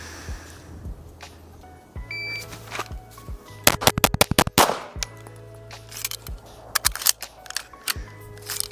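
Pistol shots from a Smith & Wesson M&P 2.0 Steel Frame on an outdoor range ring out in a rapid string of sharp, loud cracks, followed by a few more scattered shots, with a low background hum between volleys.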